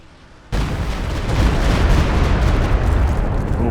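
Walking Stuka rocket barrage from Company of Heroes 2 slamming into a target, a sudden loud burst of overlapping explosions that rolls into a sustained rumbling roar for several seconds.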